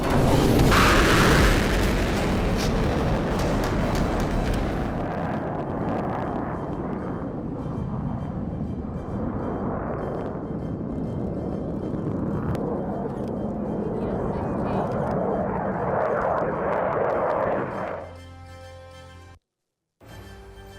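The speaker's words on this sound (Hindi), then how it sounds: "इसके अलावा जगुआर, मिराज जैसे लड़ाकू विमान ने पोखरण में आज अपनी शक्ति का परिचय दिया।" Fighter jets such as Sukhoi, Jaguar and Mirage flying a firepower display over the Pokhran range roar loudly with heavy booming rumble, strongest at the start, then a sustained jet rush before cutting out near the end.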